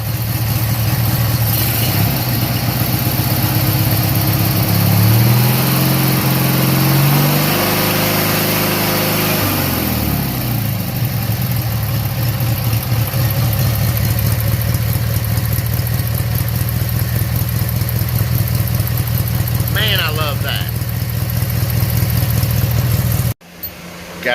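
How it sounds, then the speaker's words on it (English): An 18hp Briggs and Stratton opposed-twin engine runs steadily with a low, throbbing drone, its revs dipping briefly before settling back, loud and close. "Listen to that. Listen to that opposed twin."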